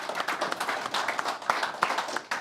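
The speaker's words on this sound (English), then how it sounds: "give yourself a round of applause now first" A small group at a climate conference clapping briefly, scattered hand claps forming light applause that rises and falls over a couple of seconds.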